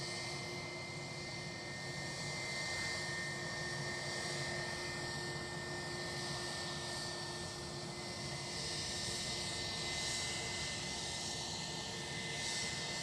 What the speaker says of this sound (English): 757 inbound, so that will be the Chicago flight